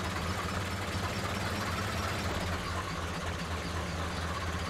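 A tractor engine runs in GTA 5 during a tractor versus truck race, a steady, loud, low rumbling drone with a knocking throb throughout and no talk.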